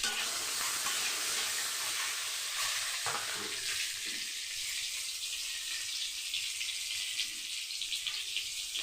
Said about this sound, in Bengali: ফুল ফ্লেমে দিয়ে আমি ডিমটা কড়া করে ভেজে নেব।